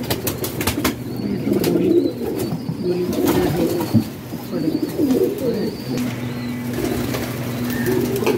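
Pigeons coo in low, repeating rolls nearby, with occasional wing flaps and faint chirps in the background.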